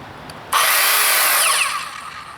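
An Evolution R185CCSL circular saw spins up with a sudden loud, high whine, then its electric brake brings it to a fast stop, the pitch falling away within about a second.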